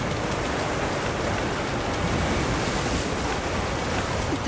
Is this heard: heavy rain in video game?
yes